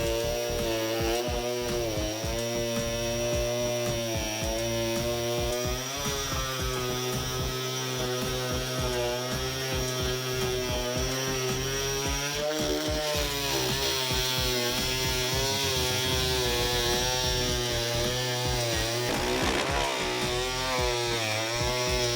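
A power tool whines steadily as it cuts notches into a BMW E90 rear door panel, a loud close drone with a wavering pitch and layered harmonics that runs continuously without a break, with no voices.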